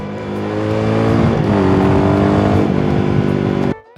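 A Royal Enfield Himalayan 450 engine revs hard and steadily climbs in pitch for several seconds, loud and close, with no voices, before cutting off abruptly at the end.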